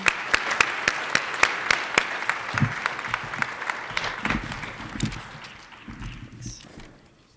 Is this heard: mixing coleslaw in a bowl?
no